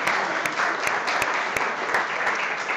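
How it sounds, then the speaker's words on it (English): Audience applause at a chef showdown cooking event rises as a dense, steady wash of clapping through the whole stretch, with a few sharper individual claps standing out near the front. "Please give a big round of applause for Harvard Jolly."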